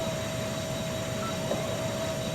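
A loaded airliner takes off in the Extreme Landings Pro flight simulator, its engines a constant, loud roar with a steady whine running through it.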